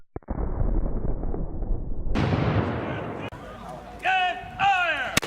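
A historic muzzle-loading artillery cannon fires at a Jamestown demonstration, one loud deep boom with a long rolling rumble, followed by shouted voices.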